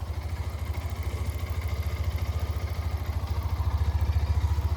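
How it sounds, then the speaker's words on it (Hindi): A Hero Xtreme 125R motorcycle in gear, its engine running low and steady with a fast rhythmic clatter from the drive chain over it, recorded up close, with no voices. "चेन की आवाज़ काफ़ी ज़्यादा आ रही है"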